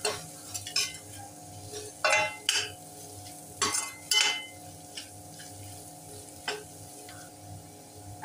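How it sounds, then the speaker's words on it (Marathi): Red masala and a pinch of turmeric sizzle softly in a hot pan for matki rice, with a spoon scraping and stirring in irregular bursts over a low, steady frying hiss. "लाल मसाला, किंचित हळद. आता हे छान मिक्स करून घेऊया."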